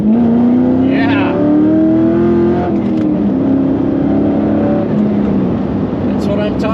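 An LS3-swapped Mazda MX-5 ND2 roars nearby in cold weather, its V8 engine revving up and holding high in loud rising sweeps, with people talking over it.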